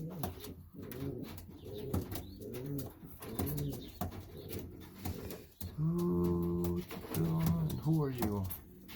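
Pigeons coo in a loft, several birds producing repeated low rolling coos at close range, with someone talking over them throughout.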